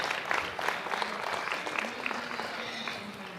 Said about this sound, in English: give all these seniors individuals a big round of applause